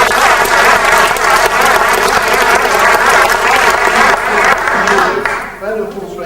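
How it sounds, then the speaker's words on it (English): An audience at a magic show gives loud, sustained applause for a volunteer called up on stage, then it fades near the end as a voice carries on, with talk also running under the clapping. "Can we have a round of applause, please?"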